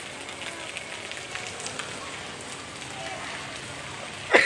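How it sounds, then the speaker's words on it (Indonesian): Heavy rain falls at a bus terminal in Makassar, a steady, moderately loud hiss of rain on surfaces with a brief louder burst at the very end. "Saat ini sedang hujan deras."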